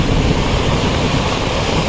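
Water rushes along an eroding bank and cuts away soil, a loud, steady roaring wash that sounds close by and is mixed with wind buffeting the microphone.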